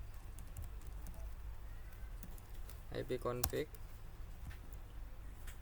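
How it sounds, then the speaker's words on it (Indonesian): Computer keys clicking as the ipconfig command is typed, a short cluster of quick taps midway through, faint over a steady low background hum. "Dengan cara kita ketik ipconfig"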